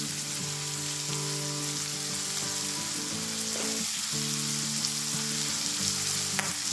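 Lomi ingredients sautéing in a pan, a steady close sizzle and crackle of frying with occasional stirring scrapes, continuous and fairly loud with no talking.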